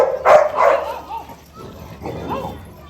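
Dogs, including a Rottweiler, snarl and growl at each other up close, with loud yips and whimpering bursts at the start and a quieter second growl later, loud and alone.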